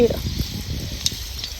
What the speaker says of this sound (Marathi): लसूण चांगला तेलात आपला तळला गेलेला आहे.